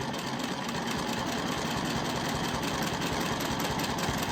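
A sewing machine runs steadily while stitching a quilted mandala, a continuous close mechanical whir and rapid needle chatter without pause or speech.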